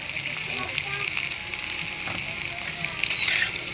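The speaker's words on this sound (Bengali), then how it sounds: "দেখো, আমি আলুটা ভেজে নিয়েছি" Potatoes frying in hot oil in a pan, a steady close crackling sizzle with occasional stirring noises, while someone speaks over it.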